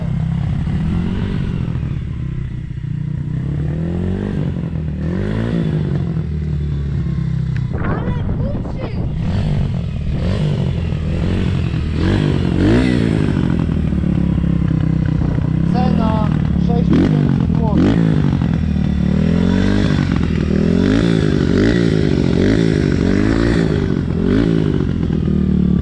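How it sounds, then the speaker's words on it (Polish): An RFZ 140 motorcycle engine running loudly right after its first start, a rough, uneven two-stroke-style drone with throttle blips and rising revs, close by with people talking over it. "Pierwsze odpalenie."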